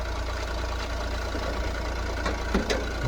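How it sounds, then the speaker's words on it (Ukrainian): A 2015 Renault Trafic 1.6 van engine idles steadily nearby with a low, even mechanical hum and faint rhythmic knocking, no voices. "Оце так працює моторчик"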